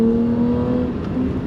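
A BMW 325is engine, the 2.7-litre racing version, revs hard and close, a loud sustained droning whine that holds steady and dips slightly near the end.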